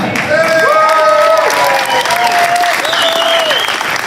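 Audience clapping at a Democratic get-out-the-vote rally in Maryland, a loud sustained burst of many hands with some cheering, while voices speak over it.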